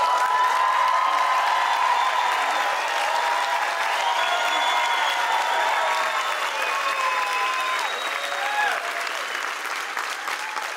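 A theater audience claps steadily in dense, sustained applause for Cactus, the sound holding loud and even throughout before easing slightly toward the end, with a few faint cheers mixed in.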